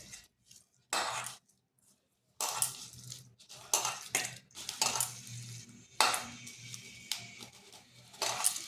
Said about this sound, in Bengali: এটা একটু এরকমভাবে কষতে কষতে মাখতে হবে।